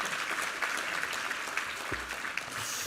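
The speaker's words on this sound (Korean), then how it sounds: "우리 하나님께 감사와 영광의 박수 올려드리겠습니다" A church congregation applauds after a sermon reading, a steady wash of many hands clapping at moderate distance, fairly soft and even throughout with no speech over it.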